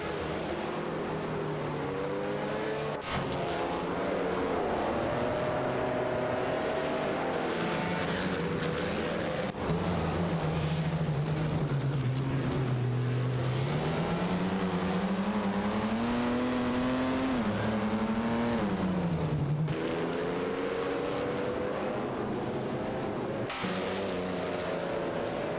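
Race car engines roar continuously in an AI racing video game, a loud droning whine that rises and falls in pitch as cars shift and pass, with several overlapping engine tones and no talk.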